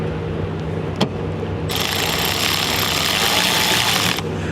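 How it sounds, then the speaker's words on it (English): A power ratcheting wrench turns a hydroboost brake fitting, its hissing buzz starting after a single sharp click and running steadily for a few seconds over a low background hum before stopping. "These little ratcheting wrenches right here, power ratcheting wrenches, are so nice."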